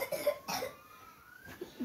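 A few dry coughs at close range, two short bursts near the start and more toward the end, with quieter breathy gaps in between.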